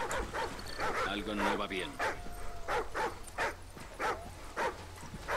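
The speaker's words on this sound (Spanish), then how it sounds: "¿Qué pretende este perro?" A dog in the Call of Duty: Ghosts campaign gives short yips and whimpering barks in a quick rhythmic series, close and clear, with someone talking over it.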